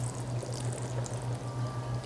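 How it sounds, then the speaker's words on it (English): Salt brine poured from a measuring cup over vegetables packed for fermenting, a steady soft liquid pour running quietly and close without a break. "So, pour it over the vegetables."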